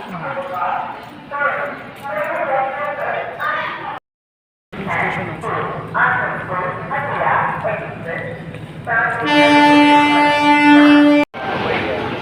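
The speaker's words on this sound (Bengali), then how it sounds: "চলে এসছে ট্রেন।" A train pulls into a railway station at night under constant chatter and a low rumble, then gives one loud, sustained horn blast of about two seconds near the end.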